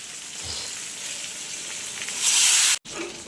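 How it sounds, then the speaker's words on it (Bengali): Water poured into a hot pan of oil for a rohu fish sour curry with raw mango makes a steady loud sizzle that surges into a sharp hiss before cutting off abruptly. "এই জলটা দিয়ে দিয়েছি, এবার ঢেকে দেবো"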